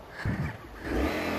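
An off-road vehicle engine on a country track in Montenegro, with its exhaust knocked off, giving a short rough rev, a low throaty roar rising and swelling close by.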